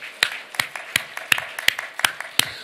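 A church congregation at a worship service claps together in a steady beat, about eight sharp, evenly spaced claps close and clear with nothing else over them.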